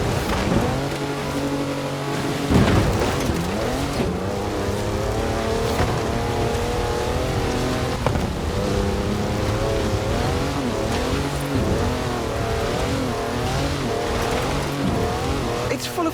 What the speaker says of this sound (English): A four-wheel drive car on mud tyres completely sideways.